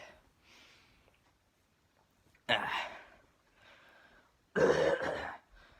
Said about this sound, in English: it's sorry the cough there.